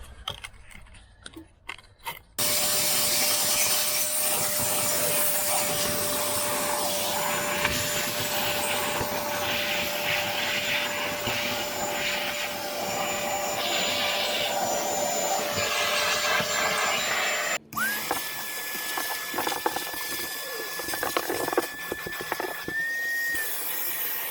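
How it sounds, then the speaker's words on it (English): A vacuum cleaner runs steadily and loudly while cleaning dry debris from the floor of a 2003 Toyota Land Cruiser Prado 120, with a sustained drone and whine that cuts out briefly near the end before resuming. "Vacuuming up the dry things."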